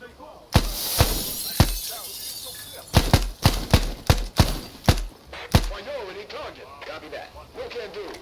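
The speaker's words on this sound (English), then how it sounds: "We can just throw grenades through the window." Window glass shattering from a thrown grenade in the shooter game Thunder Tier One: a string of sharp bursts and bright glassy crashes, some spaced, some clustered, under a voice talking throughout.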